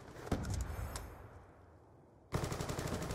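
Bursts of automatic gunfire in a Call of Duty: Black Ops 2 match on the Downhill map, Peacekeeper submachine gun, loud rapid shots that break off into a quieter lull before another burst starts.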